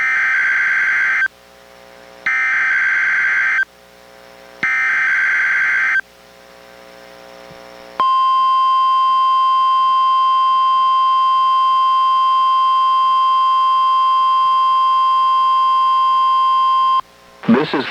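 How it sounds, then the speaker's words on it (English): NOAA Weather Radio weekly test from the National Weather Service in Portland, Oregon: a loud, steady warning alarm tone held for about nine seconds, after a series of short, evenly spaced electronic data bursts. "The preceding was a test of NWR radio's warning alarm."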